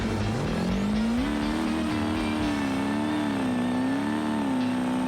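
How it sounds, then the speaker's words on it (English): A red D-Series truck's engine revs hard in a second-gear launch at a mud drag in the BeamNG driving game, a loud sustained drone rising then wavering in pitch, with tire noise underneath and no voices. "Let's do a second gear launch and see what we do here."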